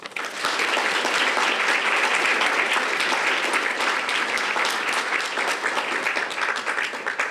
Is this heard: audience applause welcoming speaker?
yes